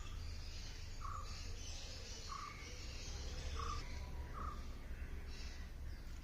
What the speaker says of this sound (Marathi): जिकडं मी जाईल तिकडं कावळा येतोया